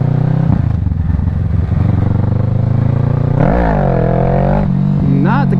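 A motorcycle in a parking lot accelerates hard for a wheelie attempt, the engine note climbing sharply mid-clip then dropping and rising again in a quick rev, loud and close over a steady idle rumble.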